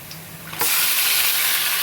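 After a quiet moment, chopped tomatoes hit hot oil and a loud, steady sizzle bursts up and continues close by.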